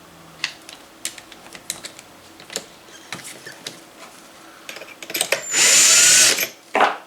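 Rifle brass cases of .223 are trimmed and deburred by hand, giving a run of small scattered metallic clicks and scrapes, then a short loud whirring burst near the end, with no talk.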